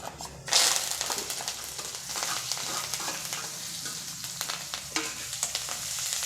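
Onions and a dried chilli sizzling steadily in hot oil, a loud continuous crackle with occasional stirring scrapes, close by.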